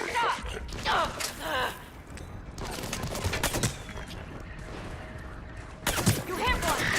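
Bursts of sci-fi gunfire in Mass Effect 3 during a firefight: rattling volleys and shots with dense battle noise throughout, while voices and heavy breathing sit under the action.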